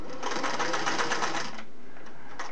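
A Singer Model 401A sewing machine runs a long twin-needle stitch, a steady close whirring hum for about a second and a half before stopping, with a brief soft tick afterward.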